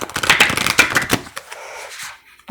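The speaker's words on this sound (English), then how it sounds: "I'm just going to pull a couple of Moonology cards here." Moonology oracle cards are shuffled and pulled in quick, papery riffling bursts up close, trailing off into a soft slide and quiet.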